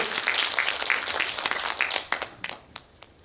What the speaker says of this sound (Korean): 이분들에게 박수 한번 보내드리라고요